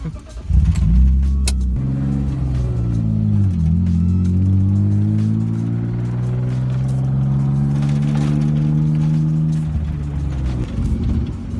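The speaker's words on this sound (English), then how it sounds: "as you can hear, it does have a little bit of rattle going on" A cheap drift car idles and revs from inside the cabin, a loud steady engine drone rising and falling in pitch, with a faint rattle from the plexiglass rear window under it.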